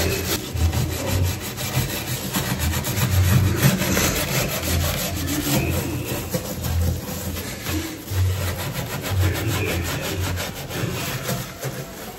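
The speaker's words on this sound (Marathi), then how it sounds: "तर घासणीनेच घासावं लागतं आपल्या" A scrubber rasping back and forth over a greasy kitchen counter, a steady, close, rhythmic rubbing that continues throughout with no talk.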